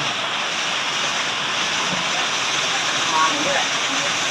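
Water gushes steadily from the outlet pipe of a newly installed pump motor at a school in Bang Na, a loud, continuous rushing close by.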